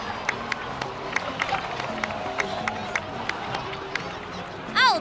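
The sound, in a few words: crowd applause in Genshin Impact video game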